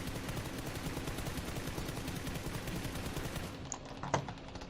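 An assault rifle with a grip attachment fires long rapid automatic bursts in PUBG, a dense continuous rattle that cuts off near the end, leaving a couple of faint isolated clicks.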